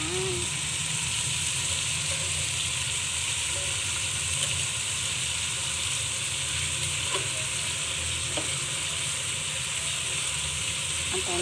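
Fish fries in butter in a covered pan, giving a steady, dense sizzle and hiss with occasional small pops, heard close and continuous throughout.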